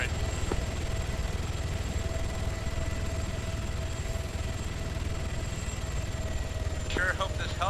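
A video game helicopter flies with a steady, droning rotor hum that holds at an even level throughout, with a brief higher electronic tone near the end.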